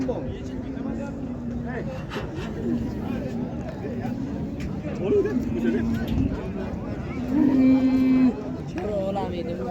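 Oxen at the Qarshi livestock market low in long drawn calls, one loud near the end, over constant crowd babble and nearby talk.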